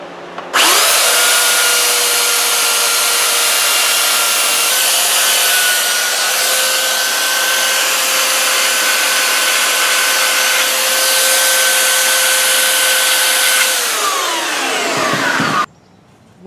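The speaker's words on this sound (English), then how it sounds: "Now I just use the handheld and pretty much completely rough sculpt the tips into the shape that I'm looking for." Handheld power tool whines loud and steady for about fifteen seconds while rough sculpting the wooden tips of a primitive bow, with slight pitch shifts under load, then spins down and stops.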